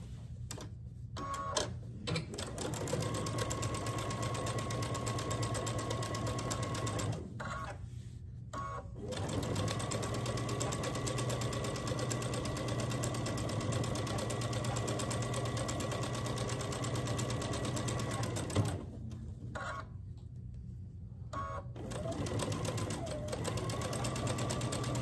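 A sewing machine stitches quilt block seams in long steady runs of close, loud mechanical whirring, broken by a few brief pauses where the seams are matched and repositioned.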